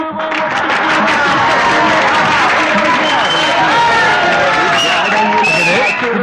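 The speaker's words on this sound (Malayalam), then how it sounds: "പ്രൊഫസർ സിദ്ധുവിനെ എല്ലാവരും കൈയടിച്ച് സ്വീകരിക്കൂ" Audience applause and cheering for a professor at the close of a fourteen-hour snake ritual, a steady dense wash of clapping and crowd hubbub filling the whole stretch, with voices mixed into the noise.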